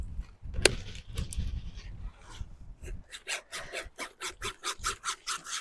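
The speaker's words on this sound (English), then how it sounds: "I'm going to trim this back. I like to use a knife for these because this is going to be quite thick." A knife saws through a thick garden plant stem in a cold-climate garden, first in rough scraping strokes, then in a fast, even run of close, rhythmic rasping cuts.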